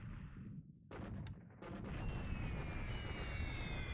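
Anti-aircraft flak fire in the naval war strategy game War in the Pacific, a dull low rumbling barrage of muffled bursts that thickens into a continuous roar, fairly faint with no voices.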